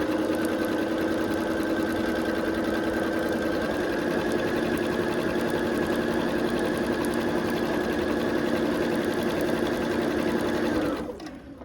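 A sewing machine stitches navy and white striped quilt pieces in one long, steady, close whirring run with a constant motor hum, slowing and stopping just before the end.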